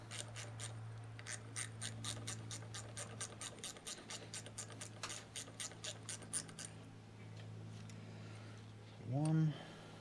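Ratchet driving cap screws back into a Gresen V20 hydraulic valve, a run of quick regular clicks for several seconds, then a pause and a brief squeaky scrape near the end, with no voice heard.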